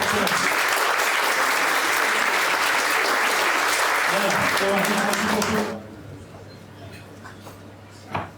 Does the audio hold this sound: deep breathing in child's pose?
no